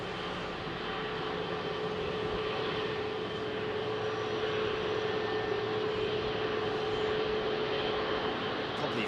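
A jet airliner at Heathrow throttles up for takeoff, a loud, continuous broadband roar with a steady engine tone that holds for the whole stretch.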